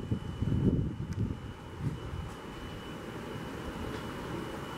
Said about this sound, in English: it's just really windy right now.